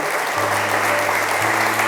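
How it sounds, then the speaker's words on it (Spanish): Church congregation applauding during a Spanish-language sermon: a dense, continuous wash of clapping filling the hall, steady and fairly loud throughout with a low hum underneath. "denle un aplauso al Señor como Él se merece, como Él es digno"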